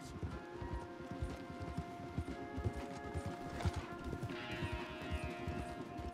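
Horses galloping hard in Red Dead Redemption 2, a fast, rhythmic clip-clop of several sets of hooves pounding continuously and close, with a brief whinny-like swell partway through and a faint rushing backdrop.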